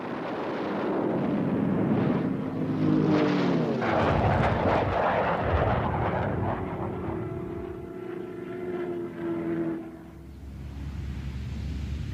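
Piston engine of a Douglas A-1 Skyraider attack aircraft roars loudly and steadily, with a droning tone that rises and shifts in pitch as the plane passes, then drops to a lower rumble near the end.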